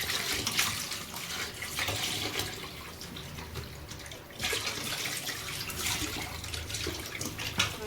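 Tap water pours and splashes in a sink while fish are washed, a steady close rush with uneven surges and splashing.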